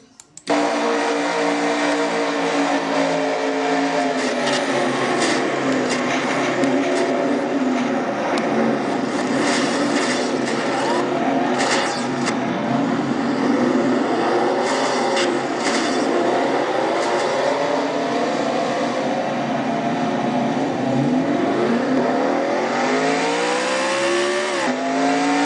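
A race car in the Castrol GTX Cup Series drives hard around the track, its engine a loud sustained roar that rises and falls with gear changes, unbroken and with no voices.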